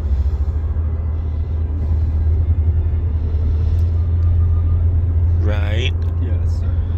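Inside a moving car, a steady low road rumble and engine drone hold throughout, close and even, with a brief higher chirp near the end.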